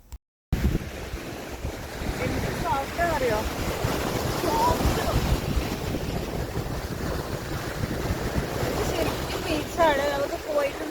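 Waves roll onto the sandy shore of Canatara Beach on Lake Huron, a broad, continuous surf wash heavily buffeted by wind noise on the microphone.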